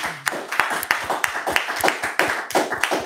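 A church congregation clapping during a Sunday service, with quick, fairly regular claps from a small group, moderately close and steady for three seconds.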